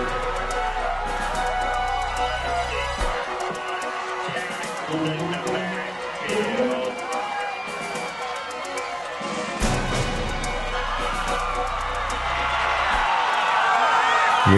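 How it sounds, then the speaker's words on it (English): Edison football fans cheer from the stands for their defense at a high school game, a broad sustained crowd roar with whoops that swells toward the end, heard from a distance beneath the broadcast. "Hear the Edison fans and see them in the background cheering for their defense."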